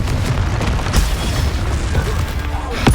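Fiery Confringo spell blasts in Hogwarts Legacy, heavy booming explosions with sharp hits near the start and end over a constant loud rumble of combat.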